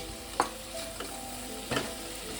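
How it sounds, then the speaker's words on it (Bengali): Soybean curry with yogurt and spices is sautéed in a pan, giving a soft steady sizzle with a few sharp scrapes of a spatula against the pan, close by and without speech. "এবার আমি একটু ভালো করে সোয়াবিনটার সঙ্গে মিনিট দুই তিনে কষিয়ে নেব"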